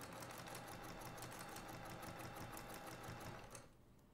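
A sewing machine stitches the seams of a quilted table runner, running with a fast, even needle rhythm and motor hum that continues steadily and stops just before the end, no talking.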